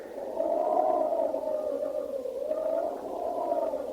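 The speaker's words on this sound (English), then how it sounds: "You hear the wind?" A steady, low moaning howl of wind that slowly rises and falls in pitch, continuous and eerie, with no other sounds, from a classic radio drama.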